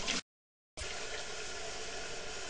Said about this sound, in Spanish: Vamos a renovar ese agua para seguir con la limpieza y no seguir ensuciando más las que tratamos de limpiar